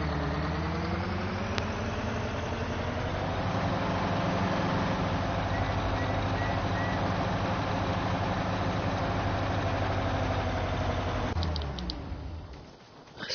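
A truck engine idles in Farming Simulator 19 with a steady, loud, even low hum and layered harmonic drone that holds constant for most of the stretch, then cuts off near the end with a brief clatter.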